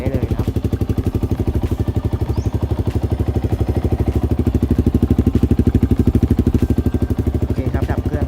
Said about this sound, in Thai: สตาร์ทด้วยรีโมทนะครับไม่ต้องเสียบกุญแจครับก็สามารถสตาร์ทรถได้นะครับ